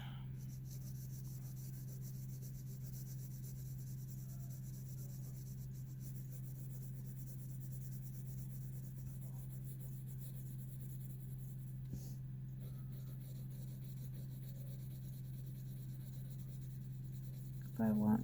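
Colored pencil strokes on paper, applied with light pressure while shading from dark to light, a soft continuous scratching rub running steadily under a constant low hum, with a faint knock near the end.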